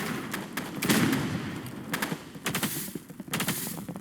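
Burst rifle gunfire in the Roblox Rivals shooter game, several quick clustered bursts of sharp shots spaced across the clip, moderately loud, with no talking over them.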